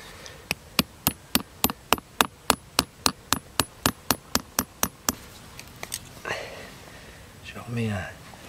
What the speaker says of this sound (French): Je vais fendre en deux le porte-greffe, faire une petite fente.